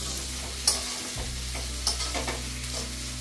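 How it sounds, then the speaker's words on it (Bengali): Onions sizzle gently in a hot pan with tomatoes and chillies, lightly frying for butter chicken, a soft continuous frying hiss with a few clinks and scrapes of stirring. "পেঁয়াজগুলো কিন্তু খুব বেশি ভাজা হবে না, হালকা ভাজা হবে"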